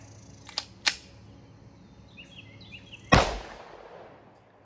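A single sharp gunshot from a .30 Super Carry handload fired over a chronograph, loud and close with a short decaying tail, preceded by a couple of faint clicks.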